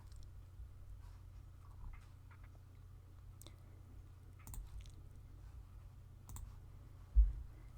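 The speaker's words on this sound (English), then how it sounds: "we'll double click on Open Image to open the mockup" A computer mouse clicks a few times in quick, faint pairs over a low steady hum in a quiet room.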